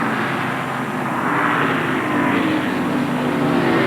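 NASCAR Winston Cup race cars roar down the straightaway at Pocono in 1993, a loud, sustained engine drone swelling slightly as the pack passes, with no voices over it.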